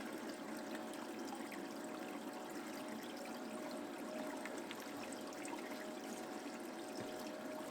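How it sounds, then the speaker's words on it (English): Water steadily circulating and trickling in a bait tank driven by a powerful venturi pump that injects air, a faint, continuous bubbling wash with no talk. "the Venturi is putting a lot of oxygen, or at least air, in the water, and it's causing it to go in circles."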